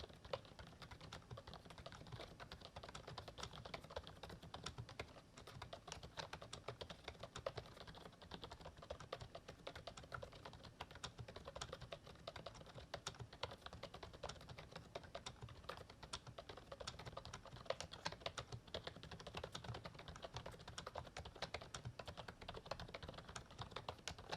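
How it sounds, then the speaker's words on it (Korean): Soft, muted typing on an Archon AK22 low-noise membrane keyboard: a steady stream of quiet, rapid keystrokes with a dull, cushioned sound, continuing without pause and with no talking. "가장 궁금했던 타건 소리 바로 들어보겠습니다"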